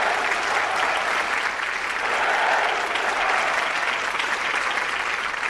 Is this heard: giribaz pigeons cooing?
no